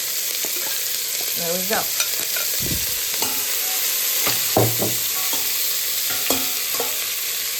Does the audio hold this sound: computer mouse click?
no